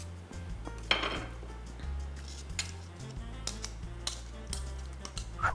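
A knife cutting into oysters at the foot to free them from the shell, producing quiet scattered clicks, scrapes and metallic taps against shell at close range.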